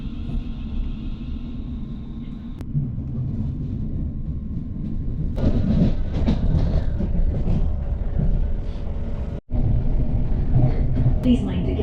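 An Edinburgh to Gourock train runs on rails with a continuous low rumble from inside the carriage, swelling louder partway through and broken by one brief dip, with faint voices at times.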